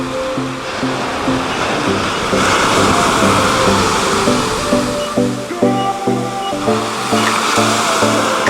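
Surf breaking steadily at Hamua Beach on Maui's west coast, a continuous loud wash of waves with a tonal melody running underneath.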